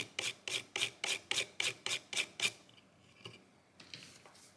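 Rhythmic scrubbing strokes, about nine quick rasping rubs in a row, then a few fainter ones, as a Game Boy Color circuit board is cleaned with rubbing alcohol; close and fairly quiet.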